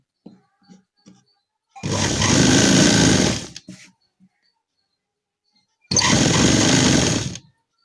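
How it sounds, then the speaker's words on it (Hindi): A sewing machine runs a long basting stitch through gharara fabric in two sustained bursts of steady whirring, separated by a pause with a few light handling clicks. "इसमें कच्ची सिलाई लगा देंगे, मशीन से ही कर लेंगे हम इसको"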